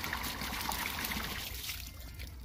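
Water gushes steadily from a motor-fitted hand pump now running clean, a continuous close, hissy rush with no talk.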